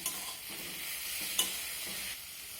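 Ground spices, ginger and green chili paste with a splash of water are sautéed for a banana stem, pumpkin and potato dish, a faint soft sizzle with a brief stirring scrape, short and quiet.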